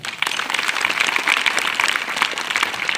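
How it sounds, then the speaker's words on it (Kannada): Loud, steady applause from an assembled audience for teachers at a school's tenth-standard Saraswati Puja and annual gathering, dense clapping held at full strength throughout. "ಎಲ್ಲ ಶಿಕ್ಷಕರಿಗೂ ಸರ್ ಒಂದ್ಸರಿ ಜೋರಾಗಿ ಚಪ್ಪಾಳೆ ಹಾಕೋಣ"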